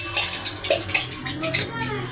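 Water is poured into a cooking pan of chicken and potatoes for a home-style aloo chicken curry, with a splashing, trickling pour heard close under a woman's speech.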